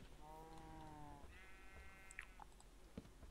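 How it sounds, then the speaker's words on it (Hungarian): Two drawn-out sheep bleats from Minecraft, one lower then one higher, followed by a few faint clicks and crunches, quiet and with no talking. "De jó, jön egy bárány."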